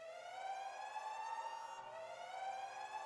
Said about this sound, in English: So you hear this alarm go off in the night